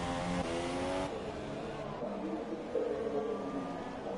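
An F1 race car engine in the F1 7 game at the Belgium GP: a loud high-pitched engine revving and shifting up through gears, with a tire squeal near the end.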